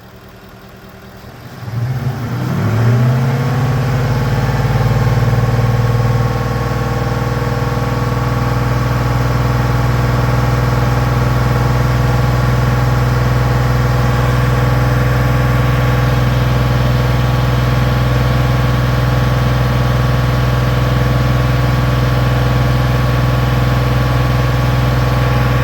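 A Ford F150 engine running with raised RPM, a loud steady hum that climbs in pitch over the first few seconds and then holds a constant, even drone for the rest of the clip, near and without speech.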